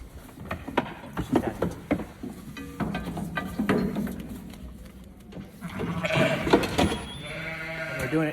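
Sheep bleat in a barn during deworming with a dosing gun, about three weeks before lambing, several animals calling repeatedly at close range with loud overlapping cries toward the end, along with shuffling and knocking.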